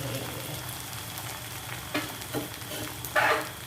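Pounded chili paste ingredients for jaew bong hit hot oil and fry with a soft, steady sizzle. A few short scraping stirs come through close by.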